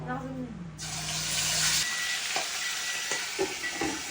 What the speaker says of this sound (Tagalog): Bago natin igata, ipiprito muna natin.